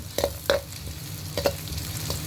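Crushed garlic goes into a frying pan and is stirred, giving a soft sizzle under a few sharp scraping stirs and clinks of the utensil against the pan, with no voices.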